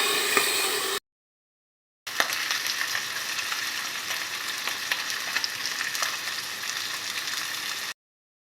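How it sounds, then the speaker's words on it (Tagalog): Fish frying in a pan for asam fish, a steady loud sizzle with crackles, briefly cut off near the start and then continuing evenly. "Ito, prito tayo ng isda."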